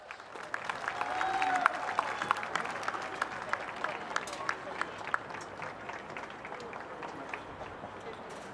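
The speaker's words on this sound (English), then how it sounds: "let's have a round of applause now for the McAllen Nicky Rowe staff coaching the West All-Stars" Crowd applauding at a 2018 RGV All-Star high school football game, West versus East, a broad steady wash of clapping at moderate distance, rising then holding, with scattered sharper claps and faint voices mixed in.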